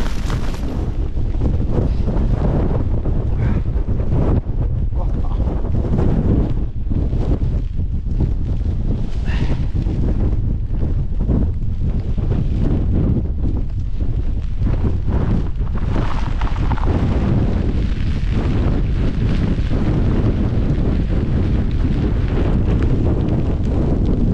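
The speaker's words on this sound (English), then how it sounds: "this is the worst wind I've been in a long time." Strong storm wind batters the microphone at a wild camp in the Cheviot hills, a loud, continuous roaring buffet with gusty surges throughout and no voice heard.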